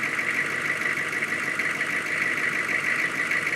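A 1997 Chevy 2500 diesel engine idles in a steady, dense rumble with a constant clattering hiss, close and unchanging, with no voices.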